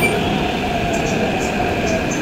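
At Secunderabad railway station a train rumbles loudly and continuously nearby, with faint high squeals from the wheels above the steady roar.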